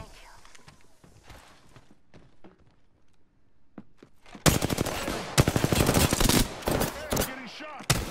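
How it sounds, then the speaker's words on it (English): Rapid automatic gunfire in the video game Apex Legends erupts after several quiet seconds of faint footsteps and clicks, then continues as loud, close, sustained bursts with short breaks until the end. "I'm getting shot"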